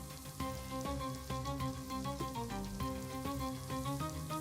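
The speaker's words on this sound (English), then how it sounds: "Stir frequently to prevent burning and to coat the rice with the spiced oil." Drained rice frying in spiced oil with bay leaves and mace, a steady close sizzle running underneath louder background music.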